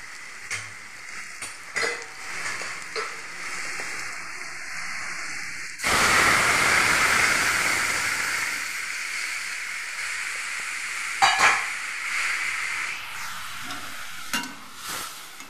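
Dal poured into bitter gourd frying in a pan: a sudden loud surge of sizzling hiss starts partway through, then settles into steady frying, with a few brief clinks of a spoon or pot.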